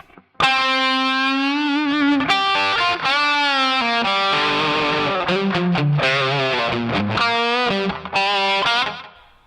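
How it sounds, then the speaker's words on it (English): A distorted electric guitar through a MOOER GE200 with plate reverb plays sustained bent notes and short phrases in an AC/DC-style tone, with a lush reverb tail washing behind each note; no voices. "this is the sound with the reverb on as well"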